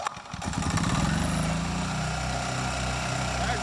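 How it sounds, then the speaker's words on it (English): A gas-powered E-Z-GO TXT or Yamaha G2 golf cart engine revs up from a rough start into a steady, buzzing drone, held close and loud for several seconds with no talking. "Once the engine starts picking up and running on its own, it'll charge to what it's supposed to be."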